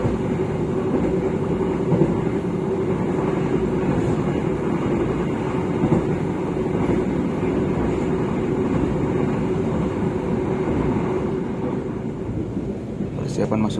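Steady rumble and rattle from inside a moving KA Bogowonto economy-class train travelling from Yogyakarta toward Cirebon, a continuous even drone with a faint scrape near the end.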